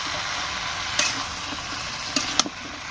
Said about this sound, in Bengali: নাড়াচাড়া দিয়ে দিই।